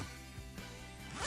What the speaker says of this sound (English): I pulled open the zipper on her bag as far as I needed